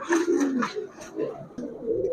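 Small paalla-line pigeons call actively, a close, loud run of throaty, wavering coos in quick succession.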